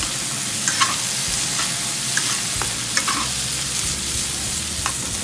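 Hot curry is stirred in a pan over steady frying sizzle, with a few light scrapes and clinks of the utensil close by and no talking.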